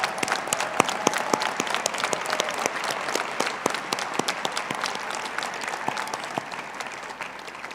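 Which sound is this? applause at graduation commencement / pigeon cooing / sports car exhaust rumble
applause at graduation commencement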